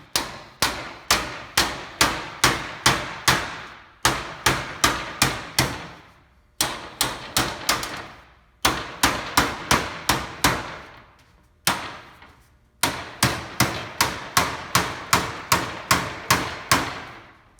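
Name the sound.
hammering metal shingle grooves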